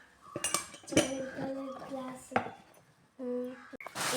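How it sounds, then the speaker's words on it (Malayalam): A ceramic bowl set being handled and knocked together, giving several bright ringing clinks and clatters in irregular bursts, close by, with a voice talking over part of it. "ഇതും അതേ ഒരു ബൗൾ സെറ്റാണ്"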